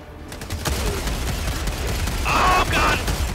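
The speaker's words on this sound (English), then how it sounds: "I basically unloaded an entire clip of shotgun ammo" A shotgun emptying its whole magazine in the Helldivers 2 video game, a string of heavy blasts in fairly quick succession amid loud battle noise, with a sharp metallic ring partway through.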